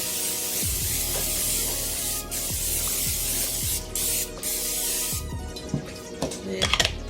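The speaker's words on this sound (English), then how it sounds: "let's spray our pan" Cooking spray hisses from an aerosol can into a baking pan in a home kitchen, several close, loud bursts through the clip, with light clatter of pans near the end.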